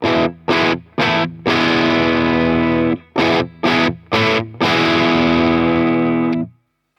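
Electric guitar through a CTC Heatseeker overdrive pedal, enhancer off, plays chopped, stabbing chords in a rhythmic pattern, then lets a long distorted chord ring out before stopping.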